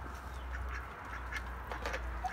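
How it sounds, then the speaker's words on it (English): Four meat ducks on a small farm quack faintly beneath a constant wash of outdoor background noise, with no clear voices. "These are my last four meat ducks."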